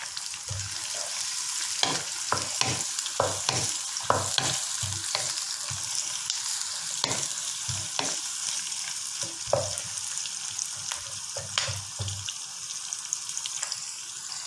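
Onion and pandan leaves frying in a pan for mutton curry, a continuous sizzle punctuated by repeated sharp stirring clacks of a spoon against the pan, steady and close.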